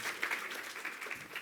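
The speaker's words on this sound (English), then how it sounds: "Just give them a round of applause as they're coming up." Steady, continuous applause from an audience at a social media business breakfast event, welcoming panel speakers to the stage; moderately faint and even throughout with no voices over it.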